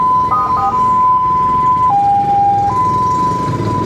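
A fire engine siren wails loudly and close, holding a steady tone with a brief warble early on, then stepping down and back up in pitch over several seconds, with traffic rumble underneath.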